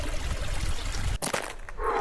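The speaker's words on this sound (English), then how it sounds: "Ooh, listen to that water." Water flows beside a hiking trail near Beaver Lake in Sitka, Alaska, a close, continuous rushing and trickling that briefly dips before surging back, with no talking over it.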